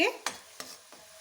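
Ginger and garlic fry in a pan for chole, a soft sizzle underneath three distinct spatula strokes spaced evenly and heard up close.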